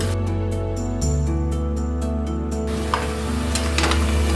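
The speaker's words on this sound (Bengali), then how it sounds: "এবার এটা ভালো করে কষাবো।" Mutton sizzles as it is stir-fried with a spoonful of cumin powder for Bengali mutton kosha, a loud, close crackle under a steady droning hum with a couple of brief spatters.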